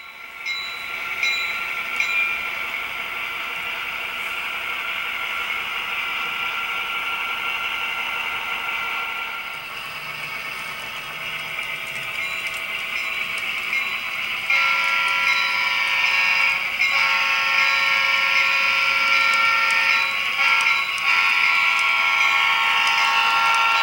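An HO scale model GP9 diesel locomotive rumbles steadily past pulling a train, with a loud engine drone and rail noise, building in intensity toward the end; no voices.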